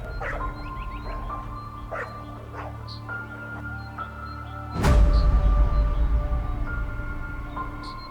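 African wild dogs in Namibia give a string of high yips and short barks from a pack, scattered and overlapping over a steady drone, with a louder burst of broadband noise partway through and no talking.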